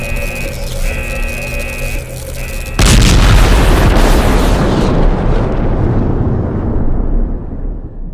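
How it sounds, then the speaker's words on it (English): An overcharged energy core blows up in Last Days of Lazarus: after a steady electronic hum, a sudden loud, deep explosion erupts and rumbles on, slowly fading over several seconds. "Destabilize the energy core. It's overcharging. Let's get the hell out of here. This thing is going to explode."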